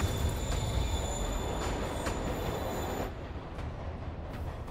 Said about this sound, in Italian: Il treno si muove, lì sta scappando.